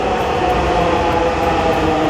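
A Dhaka metro rail train pulls into a busy station, heard as a loud, steady rolling rumble and hiss close by, with no speech over it.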